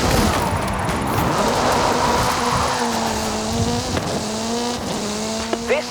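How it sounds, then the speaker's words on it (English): Hoonigan Gymkhana 10 Ford Focus RS RX, a 2-litre turbocharged front-engined all-wheel-drive rally car in Forza Horizon 5, revs loudly near and alone, with rising and falling engine tones, gear changes and tire squeal. "This is Mr. Kenneth Block's Hoonigan Gymkhana 10 Ford Focus RS RX."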